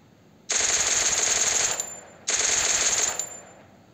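Video game machine-gun fire in two loud sustained bursts, each lasting over a second with a short pause between, close and dominant with no talking.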